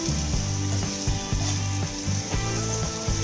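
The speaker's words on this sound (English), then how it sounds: "again fry this" Vegetarian dish frying in a pan over a slow to medium flame, a continuous sizzle with a repeated low knocking rhythm, like stirring strokes, and no voices.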